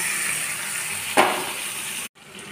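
Paneer cubes dropped into hot oil in a frying pan, a steady close sizzle with a sudden louder burst as the pieces hit, then the frying hiss carrying on before a brief cut.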